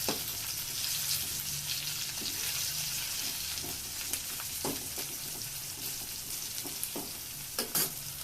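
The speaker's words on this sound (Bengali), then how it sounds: "পটলগুলো ওই তেলে ভেজে নিচ্ছি। সরিষার তেলে রান্না পুরোটাই। পটলগুলো খুব ভালো করে ভাজবো।" Pointed gourd frying in mustard oil with onion, garlic and ginger gives a steady close sizzle, with occasional sharp crackles and stirring scrapes and no voices.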